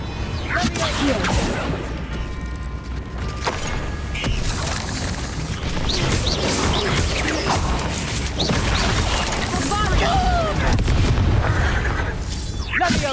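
Confringo blasting spells in Hogwarts Legacy, with repeated booms, whooshes and crashing impacts scattered through a busy fight, and voices shouting between the blasts.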